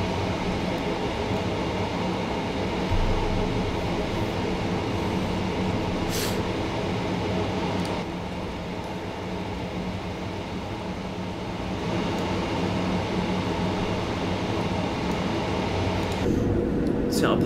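Thameslink train running in a train simulator video game, a steady rumbling drone of motor and rail noise throughout, with a brief rise near the end.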